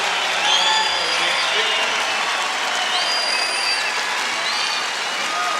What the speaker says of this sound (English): Well-deserved round of applause for all those guys